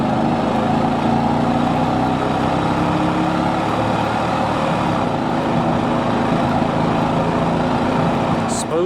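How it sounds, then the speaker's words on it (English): A 1997 GMC Sierra 1500 pickup with a Vortec 5.7 V8 hums steadily while driving, its engine and exhaust a constant broadband rumble with road noise and no clear changes in pitch. "Smooth power, good sound, motor sounds good, exhaust sounds good."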